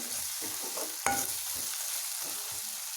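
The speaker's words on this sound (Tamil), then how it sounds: "நல்லா கிளறிட்டே இருங்க இல்லைன்னா அடி பிடிச்சிரும்" Chicken biryani masala sizzling in a pan while being stirred, a soft steady frying hiss with scraping stir strokes and one sharper clink of the utensil partway through.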